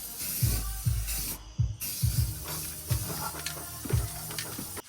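Rust-Oleum textured coating is sprayed onto the floor of a Mazda FC RX7 in short, repeated bursts of hissing spray, about eight quick pulses at close range with brief gaps between them.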